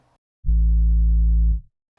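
A synthesized sine-wave sub-bass tone, routed to a bass track in guitar/bass processing, sounds once for about a second as a loud, steady low hum that starts and stops abruptly, with faint talk at either end.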